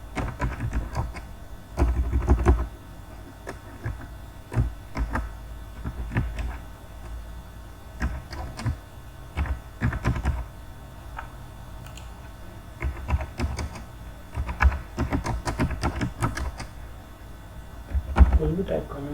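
Keys clatter on a computer keyboard as data is typed into Excel, with irregular clusters of quiet taps across the stretch, mixed with soft talking.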